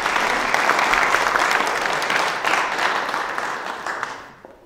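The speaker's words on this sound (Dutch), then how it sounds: "Applaus." An audience claps warmly for a guest speaker arriving at a Dutch gathering, the applause loud at first, then thinning and fading out toward the end.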